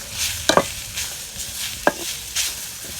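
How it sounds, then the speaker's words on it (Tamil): Brahmi leaves sautéing in a pan, with a soft steady sizzle and a few sharp scraping clicks of a spoon stirring the greens, close and fairly quiet. "கொஞ்ச நேரத்தில் இது நல்லா வதங்கிரும்"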